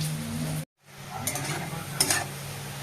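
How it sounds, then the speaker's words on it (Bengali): Onion frying in a pan for ghugni, a close, steady sizzle that cuts out for a moment, then returns with stirring scrapes and a couple of utensil knocks. "পেঁয়াজটা ভালো করে লাল লাল করে ভাজা হোক"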